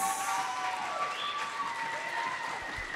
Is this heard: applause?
yes